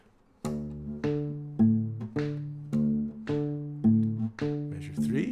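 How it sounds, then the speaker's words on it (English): Isolated bass line of a song played on guitar: a repetitive pattern of low picked notes, about eight even plucks with decaying sustain, close and moderately quiet, alone without talk. "Here is just the bass isolated."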